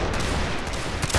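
A musket volley crackles in Mount and Blade Napoleonic Wars as an infantry formation opens free fire, a dense burst of overlapping gunshots that rumbles steadily and swells louder at the very end, with no voices.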